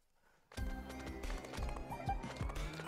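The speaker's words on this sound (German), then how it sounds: "Los, Paul, reite das Pferd." Rhythmic horse hoofbeats clip-clop steadily in the Miitopia video game, starting abruptly and continuing at a moderate loudness over layered game music and effects, with no one talking.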